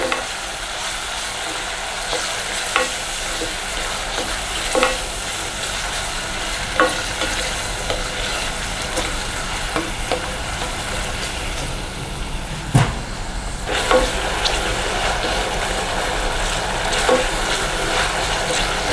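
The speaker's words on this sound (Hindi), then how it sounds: "ये चॉप किया हुआ टमाटर भी डाल देंगे। प्याज के साथ भूनेंगे थोड़ा सा।" Chopped tomatoes and onions sauté in a pan for a hing-flavoured eggplant bharta, giving a steady close sizzle with faint scraping and stirring throughout.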